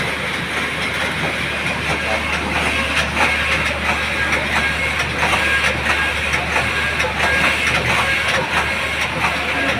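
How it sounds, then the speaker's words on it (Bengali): A machine runs in the jacket section of a garment factory, giving a steady, loud, continuous mechanical drone with a low hum and faint rattling throughout, no talking. "এই যে আমার মেশিন চলতেছে"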